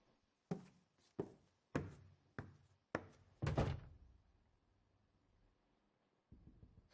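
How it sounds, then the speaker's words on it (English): Knocking on a door as a sound effect in an audio drama of Macbeth: six sharp, evenly spaced raps, the last one heavier, followed by a low fading rumble and a short dull thump after a pause. "Whence is that knocking?"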